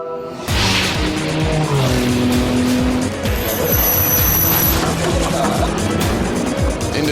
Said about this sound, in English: Benoit Tellier in the number 2 Audi has just come through there